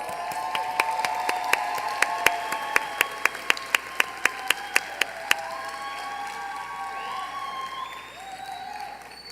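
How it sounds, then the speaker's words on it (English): Audience applause at an awards ceremony, a dense crowd clapping steadily with several sharp, distinct claps standing out near the start before the clapping thins and fades toward the end. "Round of applause."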